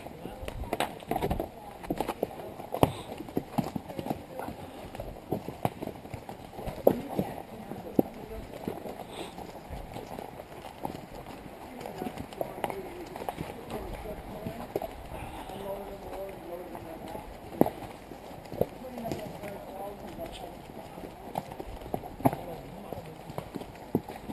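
Hooves of a walking horse clip-clop steadily in an uneven run of crisp, nearby knocks that continues for a long stretch, with low voices and faint background noise.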